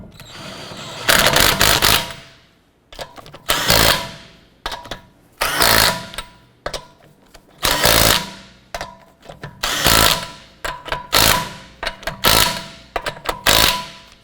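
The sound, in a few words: lug nuts being snugged down on Honda Accord wheel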